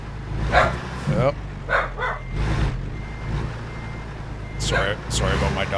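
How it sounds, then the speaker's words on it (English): A pet dog barks several times indoors, in short bursts with gaps between them, over a truck-simulator game whose reversing beeps and engine drone run underneath. A person speaks at points. "Sorry about my dog."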